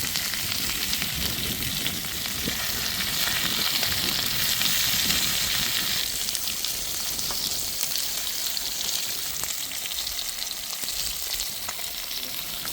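Stone fish caught at a dam reservoir fries in masala in a pan, making a loud, dense, continuous sizzle close by that eases slightly midway and carries on without talk.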